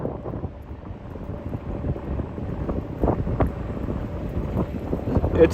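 Wind gusts on San Francisco's Great Highway buffet the microphone, a constant low rumbling roar with fluctuating gusts and no clear speech.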